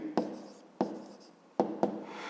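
A pen writing an answer in a school notebook during a fifth-grade maths exercise: four quick, sharp scratches of the pen tip on paper, each fading into a soft rub, close and clear with no talking.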